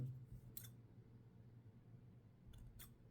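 Rusty scissors snip fishing leader line for a bottom-fishing rig: a quiet single snip, a pause, then two more close crisp cuts against a faint hum.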